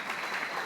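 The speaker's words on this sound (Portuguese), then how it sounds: "Pode aplaudir se vocês quiserem também." Very brief, steady applause from the audience at a forum session, dense clapping heard alone.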